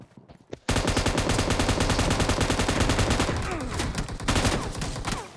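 Sustained automatic gunfire in the video game PUBG, a dense, loud rapid-fire burst that starts abruptly after a few light clicks and continues for several seconds.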